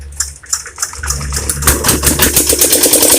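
The engine of a precast U-ditch concrete machine is started: quiet mechanical clicking at first, then the motor catches and settles into a loud, steady running rumble.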